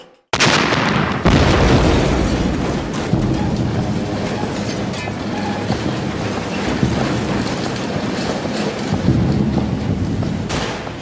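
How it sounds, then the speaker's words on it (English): Replica briefcase bomb with two explosive charges, one without a detonator, set off in a test, giving a sudden very loud blast followed by a long roaring rumble that slowly fades, with no talk. "Both charges ignited, even though one had no detonator."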